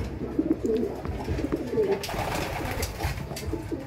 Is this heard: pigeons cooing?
yes